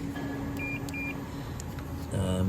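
A multimeter on continuity test gives short electronic beeps while probing an EGR valve connector on a BMW, faint tones over steady background noise.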